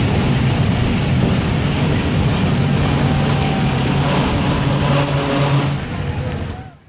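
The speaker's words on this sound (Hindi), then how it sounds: "हमारी ट्रेन पहुंच रही है खैरपुर रेलवे स्टेशन पर" Hazara Express train pulling into Khairpur railway station, a steady loud rumble of wheels and engine with a sustained low drone and brief high squeals, easing off near the end.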